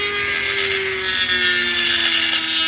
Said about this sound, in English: in this instance, I'm using a Dremel with a diamond cutter